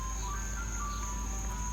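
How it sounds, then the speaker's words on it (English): An ice cream truck jingle plays faintly in the distance, thin tinkling tones over a steady low hum of background noise. "an ice cream truck"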